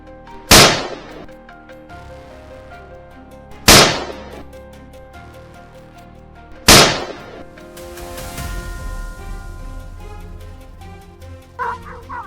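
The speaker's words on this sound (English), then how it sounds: "he seized the moment, took aim, and pulled the trigger" Three loud, sharp rifle shots fired at a charging wild boar in an open field, spaced a few seconds apart, each with a sudden crack and short decay, followed by a sustained rumbling wash and faint barking.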